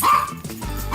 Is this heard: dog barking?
yes